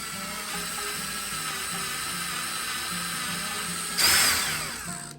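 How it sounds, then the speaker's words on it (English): A power drill whirs steadily at high speed, then surges louder for a moment as it bites in before winding down. "So let's kind of just drill some holes."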